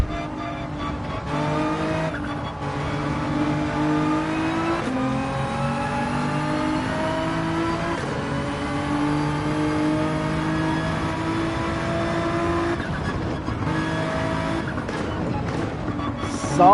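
A Nissan GT-R race car in the Gran Turismo 7 video game, its engine revving hard through repeated upshifts in a steady climbing whine, loud and continuous, with brief dips between gears.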